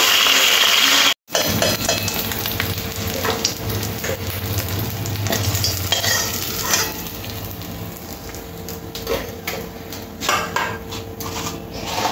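Panch phoron spices crackle and sizzle in oil left from frying rohu fish, a continuous close frying hiss with clinks and scrapes of a spoon against the pan after a brief cut at the start.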